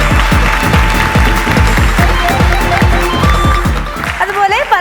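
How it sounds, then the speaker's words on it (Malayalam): An audience claps loudly and continuously at a stand-up comedy show, dense applause lasting several seconds before tapering off into scattered claps and a voice. "നല്ലൊരു കൈയടി കൊടുക്കാം."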